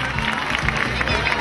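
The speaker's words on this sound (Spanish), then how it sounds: "saludamos con un fuerte aplauso a la señora Liz Rayo" An audience at a summer singing festival gives dense, steady applause, loud and close, lasting throughout the short moment.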